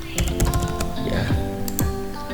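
Someone types a password on a computer keyboard in a brisk series of close, clicky keystrokes, set against steady tonal background music.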